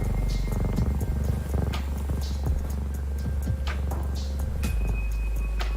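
A looped cat purr sample plays in a lo-fi music app on an iPad, a steady low rumbling purr running continuously under a mix of soft tones and occasional chimes.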